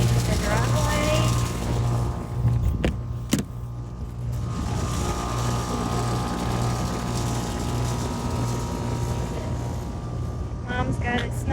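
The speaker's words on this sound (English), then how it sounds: "get the snow blower out, see if I can snow the driveway a little bit" A snow blower clears a melting driveway beside a tiny house in winter, a steady loud mechanical drone and churn running throughout, close to the listener, with a couple of sharp knocks partway through.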